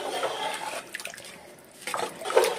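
Warm water poured from a cup into a pot of rice for chicken biryani, splashing in bursts with a short pause in between, close and clear, with no talk.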